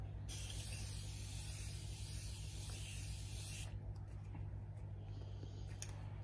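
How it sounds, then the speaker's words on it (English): A single long hiss of spray from a close mist bottle lasts about three seconds, then stops, leaving faint handling noises. "the last but not least step, which is setting spray"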